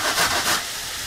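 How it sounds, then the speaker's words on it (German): Garlic is rubbed across the fine side of a kitchen grater in a few quick scraping strokes, a short raspy hiss up close, followed by quieter scratching. "Und den Knoblauch, den reibe ich einfach hier auf der feineren Seite."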